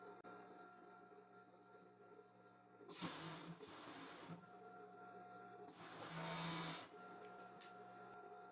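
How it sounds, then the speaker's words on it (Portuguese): An overlock serger stitches the shoulder seams of a blouse in two bursts of steady, buzzing whir, each lasting about a second and a half, over a low background hum. "Na overlock, iniciei fechando os ombros da blusa."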